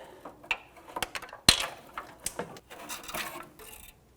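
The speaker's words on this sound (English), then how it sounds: "as we remove that bolt, the heat shield should come out with it" A bolt is worked loose and a heat shield pulled free on a 2005-2021 Nissan Frontier 4.0L V6 during starter replacement, giving close, sparse metallic ticks and clicks with one sharper knock amid faint scraping.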